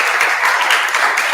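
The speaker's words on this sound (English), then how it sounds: "can we please give Subra a round of applause for his sharing today?" Applause from an audience at a UX design forum for a speaker, a steady wash of many hands clapping close and fairly loud through the brief moment, with no voices on top.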